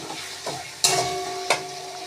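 Chopped tomato frying with ginger, onion and garlic masala in a pan, a close steady sizzle broken by two sharp bursts as the pieces hit the hot oil, ending abruptly.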